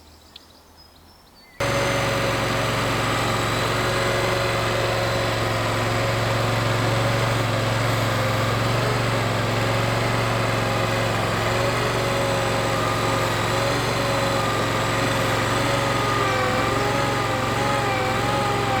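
An Avant 220 compact loader's engine runs loud and steady in wet ground, its wheels spinning, after a brief quiet start, with a continuous drone and slight pitch wavering throughout.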